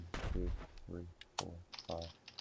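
A computer keyboard is pressed a few times with the spacebar in use while playing a trench-warfare game, giving soft, close clicks mixed under steady talking voices.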